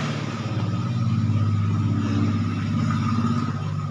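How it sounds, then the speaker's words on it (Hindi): Passing road traffic outside, a continuous mid-level engine drone with a slight swell of a vehicle accelerating, steady and fairly close. "सॉरी थोड़ा सा ट्रैफिक की आवाज़ आ रही हो, प्लीज़ इसे इग्नोर करिएगा।"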